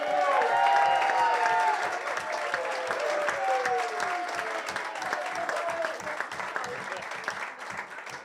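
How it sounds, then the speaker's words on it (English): Enthusiastic audience applause at a celebration event, loud and sustained clapping from a large crowd with some cheering, with a rhythmic clapping pulse running underneath and a voice briefly audible over it. "that's the biggest applause of the night"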